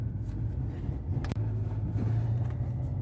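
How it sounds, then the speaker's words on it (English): Steady low rumble of a car driving along Coast Highway, the old Route 101, heard from inside the cabin, continuous road and engine noise with one brief sharp tick partway through. "And we're back in the car."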